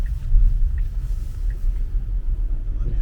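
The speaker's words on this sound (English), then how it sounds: "Let's drive around some roads." Tesla Model Y on stock wheels and tires driving on a snowy road, a steady low rumble of tire and road noise heard from inside the cabin, continuous and fairly loud.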